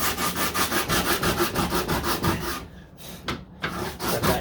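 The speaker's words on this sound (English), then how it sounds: "make my line with that little sandpaper" Hand sanding with a small piece of sandpaper on body filler on a 1969 Corvette C3 makes rhythmic back-and-forth rasping strokes, close and steady, with a brief pause before the strokes resume.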